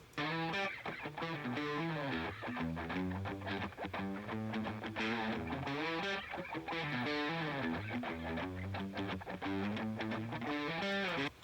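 Soloed verse guitars through stock amp models with reverb, one side washed and the other kept fairly dry, ring out as steady strummed chords in a continuous, evenly loud passage with no talking.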